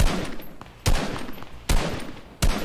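Video game gunfire in a battle royale arena match, three loud close bursts of rapid shots spaced under a second apart, each cutting in sharply and trailing off into noisy reverb.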